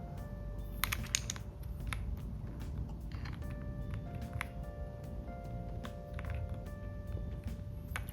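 Gateron Milky Yellow Pro keyboard switches with keycaps fitted are pressed by hand, giving close, irregular clacks and taps with a light creaky tone over a low room hum.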